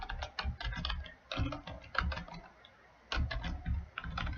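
Rapid typing of HTML code on a computer keyboard, close and clear, in quick flurries of keystrokes broken by one short pause.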